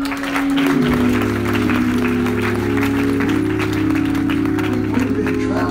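Applause from a church congregation during a service, a broad wash of many hands clapping steadily and loudly over a sustained organ or keyboard chord for several seconds.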